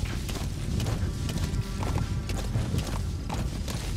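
A horse walks in Metal Gear Solid V, its hooves clip-clopping in a steady rhythm against a dense, noisy game soundscape, fairly close and moderately loud.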